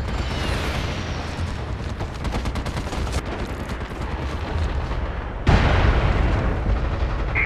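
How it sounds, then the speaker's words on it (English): Incoming artillery and gunfire in the online shooter MAG: a dense, continuous rumble of shots and blasts with a sharp, louder burst of explosions midway that stays heavy to the end. "We've got incoming artillery fire."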